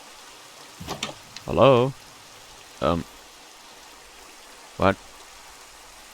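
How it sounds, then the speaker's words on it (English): Steady rain hisses faintly in the background of the video game Sectore Alpha, while someone speaks a few short words over it. "There's nobody here, but there's a lit campfire in the rain."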